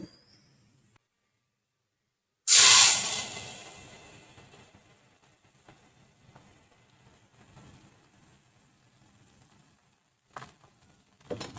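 Thick millet uttapam batter hits a hot pan with a sudden loud sizzle that quickly fades to a faint, lingering hiss, with no talking.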